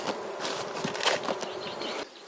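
Honey bees buzz at a spring beehive entrance, a dense, steady hum of many insects up close, with a few individual bees flying past louder, and no voices.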